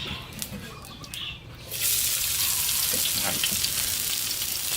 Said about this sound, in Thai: เดี๋ยวทอดกระเทียม ทอดไข่ เจียวกระเทียมก่อนเลย